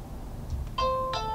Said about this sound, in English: that's the chime that you get every time it turns on or off